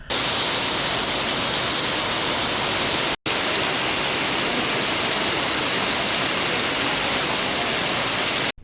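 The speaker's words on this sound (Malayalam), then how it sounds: "മേൽക്കൂരയിൽ നിന്ന് ഊർന്നുവന്ന വെള്ളം മുഴുവൻ യാത്രക്കാരെയും ശരിക്കുമൊന്ന് കുളിപ്പിച്ചു" Heavy rainwater pours off a station roof onto a railway platform in a loud, unbroken rushing wash, with two very short dropouts in the flow.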